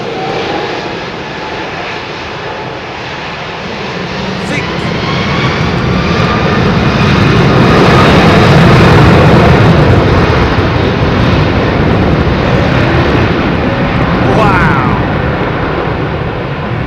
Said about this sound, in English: There's a Trent-powered jet.